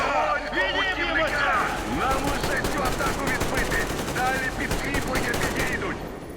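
Rapid bursts of automatic gunfire in the video game Metro Exodus crackle continuously, with scattered single shots and faint voices mixed beneath the clatter.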